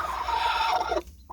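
Hens sitting over chicks in a cage cluck and murmur softly for about a second, a close, low warbling call that fades into quiet.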